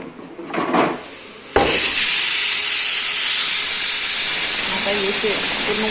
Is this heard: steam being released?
yes